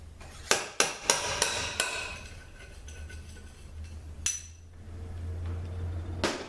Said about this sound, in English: now we're going to use this slide hammer